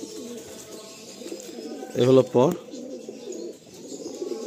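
Pigeons in a loft in Garia, Kolkata give soft, continuous low cooing throughout, with a brief louder burst of calling near the middle and someone talking over them.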